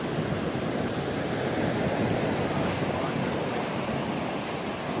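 Heavy ocean surf churned up by Hurricane Erin pounds a New England beach at low tide, a dense, continuous roar of breaking waves mixed with wind rush and no clear gaps.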